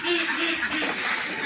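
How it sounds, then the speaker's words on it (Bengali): Haor-region ducks from Netrokona quack loudly and close by in a dense, continuous chorus that fills the whole moment. "এরা হাওর অঞ্চলের হাঁস।"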